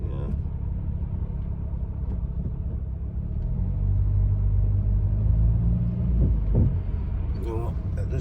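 A car with a noisy gearbox rumbles low and steadily while creeping through traffic, the drone swelling midway, with people talking over it inside the cabin.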